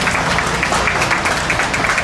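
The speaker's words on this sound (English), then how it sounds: "let's give these young people a big round of applause" Crowd at a youth sheep breeding show clapping together, a dense, loud, steady patter of many hands sustained throughout the short stretch.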